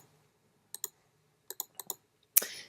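Calculator keys are pressed in quick, light plastic clicks, singly and in pairs with short pauses between them, ending on a slightly louder final tap.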